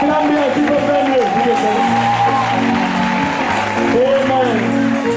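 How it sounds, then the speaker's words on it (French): Church congregation applauding and cheering in a French-speaking service, a dense steady crowd of clapping with scattered shouts and whoops, loud and close throughout. "Acclame bien, tu peux faire mieux."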